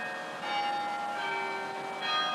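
A church bell chimes steadily on the quarter hour, ringing tones sustained and layered from a moderate distance, with no talking over it.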